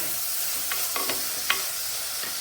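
Sautéing and stirring in a pan while cooking a Kerala roasted-coconut okra curry: a steady close sizzle with a few soft spoon scrapes and taps against the pan, no voices.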